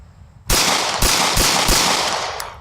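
Four sharp, loud 9mm shots from an Honor Guard pistol ring out at an outdoor range, evenly spaced about half a second apart, each with a short echoing tail.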